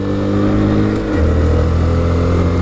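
A 2014 Honda Grom small motorcycle engine revving high and steady, loud and close, its pitch dipping briefly before climbing again.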